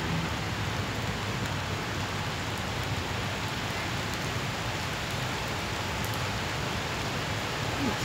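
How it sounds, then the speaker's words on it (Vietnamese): Steady rain falls at a zoo, a dense, even hiss of drops on the surface that continues unbroken at a moderate level with no voices. "Mưa nữa rồi."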